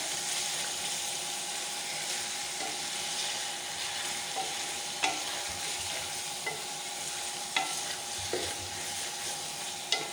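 Half-boiled potatoes are stirred and fried in a pan with a spoon, giving a steady, fairly quiet sizzle punctuated by several light scraping clicks of the spoon.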